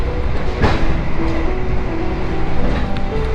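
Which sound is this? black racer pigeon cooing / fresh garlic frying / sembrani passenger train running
sembrani passenger train running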